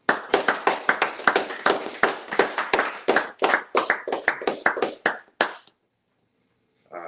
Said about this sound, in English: Clap it up for the brother.